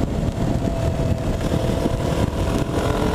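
A small-displacement motorcycle ridden on roads in the Philippines gives a continuous, close engine roar with wind rush, holding steady with no pauses.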